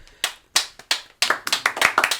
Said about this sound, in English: I thought y'all was clapping.